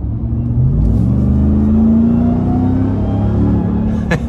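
Hard acceleration out of a corner in a 2024 Ram TRX pickup truck: a loud, deep engine roar climbs steadily in pitch for several seconds before easing off, with a couple of faint clicks near the end.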